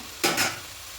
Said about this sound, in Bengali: এইভাবে আরও দু তিন সেকেন্ড একটুখানি নেড়ে ছেড়ে নেবো